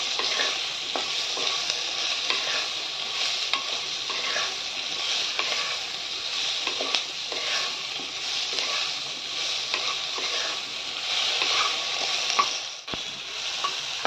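Onions sizzle and crackle steadily in a hot pan for Bengali egg curry, with a spoon scraping and stirring through them, a continuous close frying hiss without talk.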